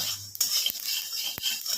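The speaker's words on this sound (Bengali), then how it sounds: "এই যে ফুটছে পটপট পটপট করে ফুটছে" Mustard seeds in a hot wok with the gas switched off, a few sharp isolated pops and light clinks over a faint background hiss.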